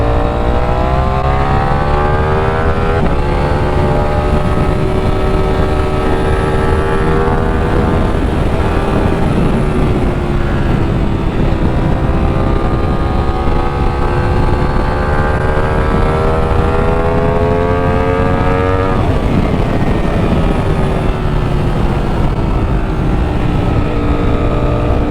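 Ducati Streetfighter V4S motorcycle engine carried through corners, a steady loud drone whose pitch rises and falls with each throttle change and shift, continuous wind-rushed engine tone without speech.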